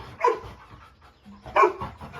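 A husky at a dog boarding kennel gives two short yelping barks about a second apart, close by, with quieter background noise between them.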